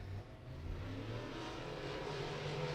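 A Rocket Chassis late model race car with a Pro Power engine runs a qualifying lap at Beckley Motor Speedway, its engine a steady, fairly faint drone heard from a distance.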